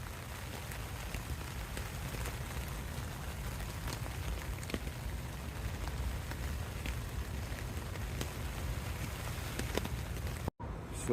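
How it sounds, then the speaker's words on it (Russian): Light morning drizzle on a tent in Florida: a steady, soft patter with scattered small drop ticks, constant and fairly quiet, with no voices. "Начались дожди, вот только сейчас вылезли из палатки. Вот и то накрапывает."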